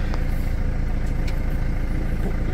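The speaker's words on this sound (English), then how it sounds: "I'm going to demonstrate this little diesel engine for you, because that is what makes this car unique." A Mercedes E250 four-cylinder diesel engine idles steadily, a continuous low rumble with a faint chirp or two, heard alone without talk.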